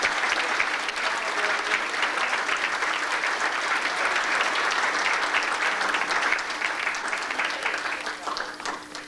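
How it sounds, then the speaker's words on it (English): Banquet audience at a Mustang car club dinner applauding the club's founding fathers, a dense, steady roar of many hands clapping that holds for several seconds before tapering off. "I think a round of applause for the founding fathers"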